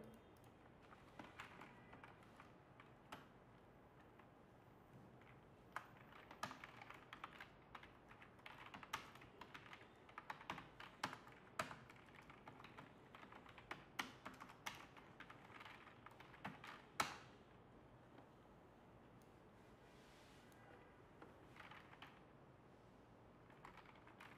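Someone types on a computer keyboard, quiet irregular key taps with short bursts and pauses over about twenty seconds, faint and close with no talking.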